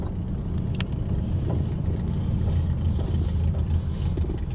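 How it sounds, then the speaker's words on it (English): The engine of a homemade VW trike runs at a steady idle, a low, throbbing air-cooled rumble heard up close and continuously without talk. "homemade VW trike."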